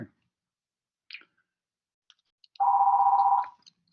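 Telephone beeping in a lecture room: a couple of faint clicks, then one steady electronic beep lasting nearly a second, clear against near silence.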